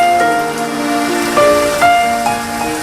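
Heavy rain pours down in a steady, dense hiss that fills the whole clip, with a soft melodic tune playing over it.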